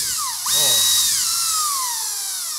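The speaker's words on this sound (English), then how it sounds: "Gotta drill some holes" A power drill whines loudly while drilling holes for a shed fan mount, its pitch rising as the motor spins up and then sliding slowly downward as it bores in, steady for a couple of seconds.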